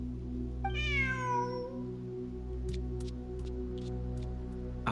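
A cat in Genshin Impact lets out one clear, drawn-out meow near the start, followed by faint ticking clicks over a steady low game hum with no talking.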